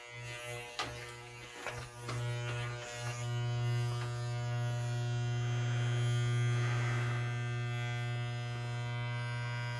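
Electric clippers buzz steadily with a strong mains hum while shaving a head, loud and close, with a few bumps and clicks near the start before settling into a continuous drone.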